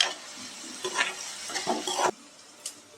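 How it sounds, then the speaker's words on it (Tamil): Chopped onions sautéing in a pan for mushroom soup over medium to high flame, a soft sizzle broken by several scraping stirs, then a quieter hiss after the stirring stops. "வெங்காயம் நல்லா பொன்னிறமாக வர்ற அளவுக்கு நல்லா வதக்கிக்கலாம்."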